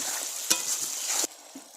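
Spice paste of ginger paste, salt, oil and turmeric frying in a pan gives a steady, close hiss for under two seconds, with a brief stir-like burst at the start and a sharp drop near the end.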